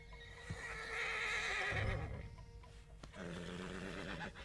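A stallion in the video game Red Dead Redemption 2 gives a loud, close, drawn-out neigh, followed by snorts and soft hoof clops.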